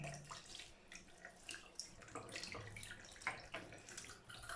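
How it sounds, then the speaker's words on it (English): Tap water runs steadily into a sink while a makeup brush is rinsed under it, a faint continuous splashing with small irregular bursts and no talking. "So I open the tap, just like that, that's enough."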